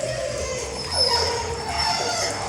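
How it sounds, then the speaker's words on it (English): Several large dogs howl together close by, a sustained wavering chorus of rising and falling howls that fills the whole moment, with no speech. "Look at these dogs."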